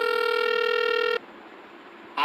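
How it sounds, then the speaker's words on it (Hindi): A steady electronic tone from a mobile phone being dialed holds for about a second, then cuts off, leaving faint hiss before a brief click at the end. "रयो ने अपना मोबाइल निकाला और किसी को फोन करने लगा।"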